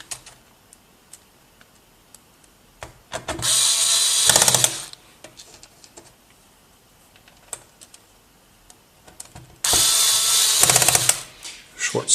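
An electric screwdriver drives long screws into the plastic case of an Amstrad NC100 Notepad computer in two loud buzzing bursts of about a second each, separated by quiet handling clicks and taps.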